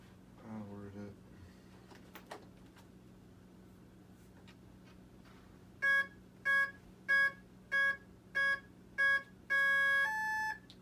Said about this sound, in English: Six beeps, ladies and gentlemen, 6 beeps.